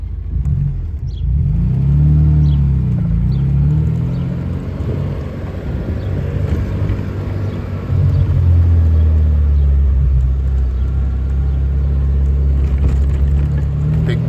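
A 1991 Alfa Romeo Spider Veloce pulls away and drives on, its engine rumbling loud and close from inside the cabin, rising and falling through gear changes with a steady drone.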